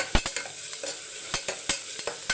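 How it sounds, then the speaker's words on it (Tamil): Onions sauté in a pan with a continuous sizzle while a spatula knocks and scrapes repeatedly in quick, uneven strokes, close up and without any voices. "இப்போ ஒரு பக்கம் ஆனியன் வதங்கட்டும்"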